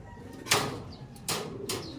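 Racing pigeons land at a loft in Nueva Ecija, with two or three bursts of flapping wings close by and quiet gaps between them.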